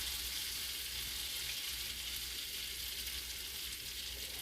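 Onions cook in melted butter in a pan, making an even, quiet sizzling hiss that holds steady throughout, with no talking.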